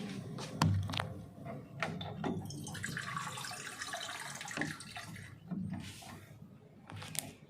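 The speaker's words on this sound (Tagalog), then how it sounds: "tapos lagyan natin ng tubig" Running water pours steadily into a cooking pot holding eggplant and green chilies for milkfish paksiw, with a few clinks and bumps, close by, with no talking.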